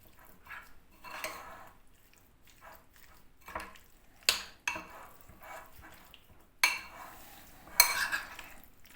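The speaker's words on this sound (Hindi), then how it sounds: "इसको सारे को मैं मिक्स करूँगी।" A spoon stirs chicken shawarma marinade with ginger garlic paste in a bowl, giving irregular scrapes and sharp clinks against the bowl's side, several louder knocks spaced a second or two apart over a quiet background.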